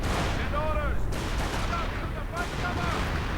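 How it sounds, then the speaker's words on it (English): Artillery fire in a World War II strategy video game: a few booming blasts rolling together under a steady battle din, while a voice talks over part of it. "the artillery utterly misses"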